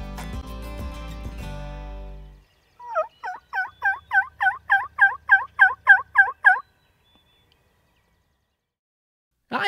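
Wild turkeys gobble in spring, a rapid series of about a dozen rattling calls at mid distance, preceded by a tonal rumble and followed by quiet.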